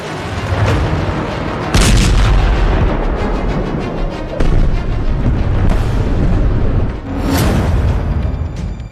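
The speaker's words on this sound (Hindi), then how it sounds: "ईरानी युद्धपोत IRIS देना पर अमेरिकी पनडुब्बी ने विनाशक हमला किया" Heavy explosions from an airstrike on an Iranian warship boom repeatedly, several loud blasts with rumbling tails in quick succession and no voices.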